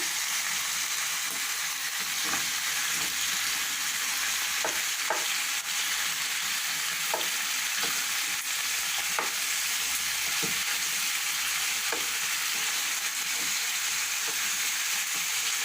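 Constant loud sizzling of meat frying in a pan for adobo, with scattered pops and occasional utensil clicks, no voices.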